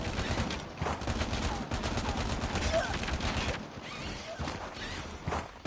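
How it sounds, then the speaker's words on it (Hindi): Rapid bursts of Pharo gunfire in Call of Duty Mobile crackle densely and loudly for several seconds with brief pauses, while a voice talks over the shooting. "भाई फारो चला रहा है"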